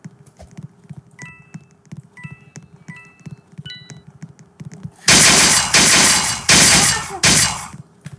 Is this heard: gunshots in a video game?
yes